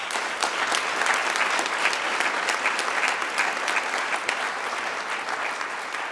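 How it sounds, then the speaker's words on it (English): A crowd at a county State of the County address claps together in sustained, steady applause that carries on without pause. "Give yourself a round of applause."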